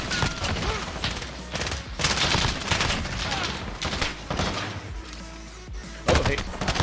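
SMG hipfire in Call of Duty Warzone sounds as continuous rapid-fire bursts. The crackling is dense and sustained throughout, with a few louder surges and a faint voice underneath.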